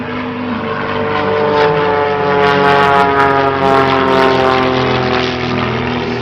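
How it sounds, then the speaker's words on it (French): A propeller airplane whose engine has three exhaust pipes flies past at the 2024 Limoges Bellegarde airshow, giving a loud, steady, rich droning roar with a strong harmonic hum that holds through the whole stretch. "Un avion est surtout un son très particulier, cela est dû aux trois pots d'échappement de ce moteur Pothèse."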